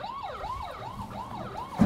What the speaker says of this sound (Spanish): me está poniendo nervioso la sirena